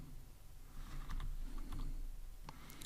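Fingers type on a computer keyboard during a coding session, a quick run of soft clicks and taps close by over a low room hum, with no voice.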